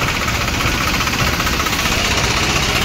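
A tractor engine running loud and close at an onion market, a steady rumbling idle with rhythmic knocking vibration that continues throughout with no speech over it.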